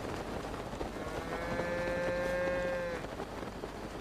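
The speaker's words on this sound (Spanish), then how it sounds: "Una vaca, la vaquita muy bonita." A single cow in the video game Zelda: Breath of the Wild gives one long, clear moo, rising out of steady outdoor ambient background noise.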